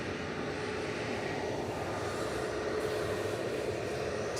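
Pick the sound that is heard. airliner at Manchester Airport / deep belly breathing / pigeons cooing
airliner at Manchester Airport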